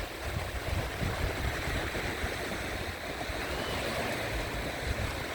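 Small waves wash steadily onto Chao Lao beach at evening, a continuous soft surf roar with gentle wind, fairly quiet and even throughout, no voices or distinct breakers.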